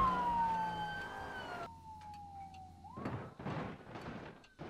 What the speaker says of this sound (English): Holy cow, is the ambulance here?